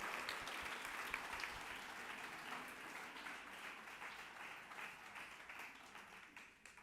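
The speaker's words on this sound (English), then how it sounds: "Can we please have a round of applause for the mayor?" Steady, dense applause fills a hall at a Chinmaya Bharat Utsav 2024 gathering for the mayor, an even wash of many hands clapping at a fairly faint, distant level throughout.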